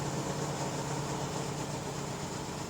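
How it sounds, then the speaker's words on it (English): A 1963 Ford Galaxie 500's low, steady engine rumble with a throaty exhaust note, fairly quiet and constant, no talking. "Listen to those pipes."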